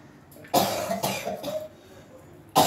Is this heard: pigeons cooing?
no